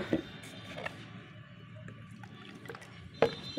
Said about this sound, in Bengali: এই দেখো এখন এটাকে আমি জলের সঙ্গে মিশিয়ে নেব